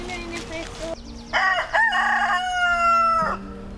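A rooster crows on a farm in the morning, a loud, clear cock-a-doodle-doo with rising and falling harmonic calls lasting a couple of seconds, preceded by softer clucking and background farmyard noise.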